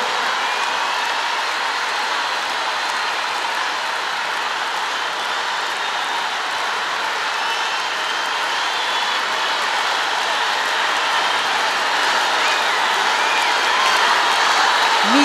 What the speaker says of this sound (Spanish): Se va Miguel recibiendo el aplauso y la ovación de la Quinta Vergara esta noche.